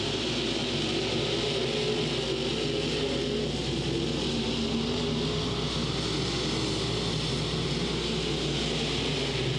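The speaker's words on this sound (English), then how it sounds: "They're racing side by side down the back straightaway." Open-wheel modified race cars at Crossville Raceway in 2004 run side by side down the back straightaway, their engines a steady, loud, continuous roar with no voices.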